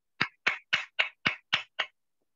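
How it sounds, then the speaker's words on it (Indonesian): Over a webinar video call, a single person claps seven sharp, evenly spaced times in quick succession, then stops, each clap crisp and isolated against silence. "tepuk tangan untuk Umi Cucu"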